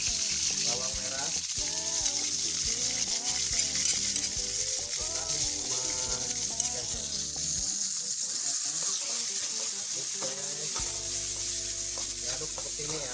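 Garlic and shallots sizzle and hiss steadily in hot oil in a pan while being stirred, a loud continuous frying noise with faint background music.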